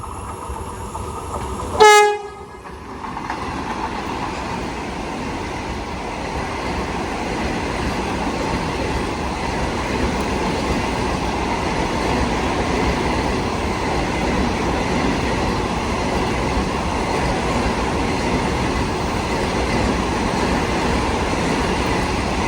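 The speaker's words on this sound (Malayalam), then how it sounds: "നമ്മുടെ മംഗലാപുരം ട്രിവാൻഡ്രം വന്ദേ ഭാരതാണ് ഇപ്പോൾ അങ്ങോട്ട് പോയത് കേട്ടോ" Mangalore–Trivandrum Vande Bharat express rushing past a small halt station, a short sharp horn blast at the start followed by a loud, sustained roar of carriages passing close by.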